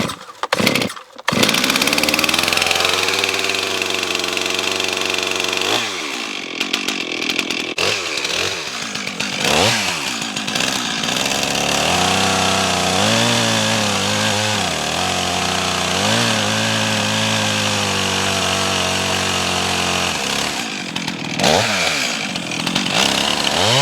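A Stihl MS 391 chainsaw is started and runs loud and close, its engine revving up and down repeatedly as it cuts into wood, with brief dips between bursts of throttle.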